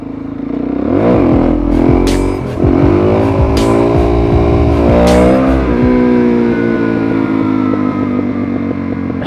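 Suzuki DRZ400SM motorcycle engine revving loudly and close, rising in several sharp throttle blips that climb in pitch and fall back, continuous throughout with no voices.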